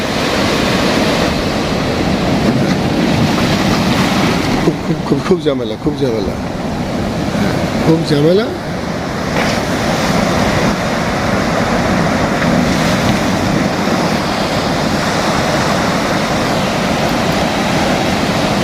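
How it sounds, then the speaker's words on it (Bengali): Sea waves break on the beach at Cox's Bazar near concrete blocks, a loud continuous roar of surf with wind noise on the microphone throughout. Someone speaks briefly over it in the middle. "কত কাছে ঢেউ একদম আসছে আসছে"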